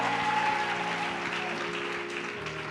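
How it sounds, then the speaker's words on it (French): A church audience applauds steadily, dense continuous clapping that stays loud and near for the whole stretch, with faint music underneath. "tu peux continuer d'acclamer"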